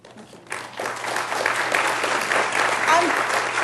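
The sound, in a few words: audience clapping at mayoral forum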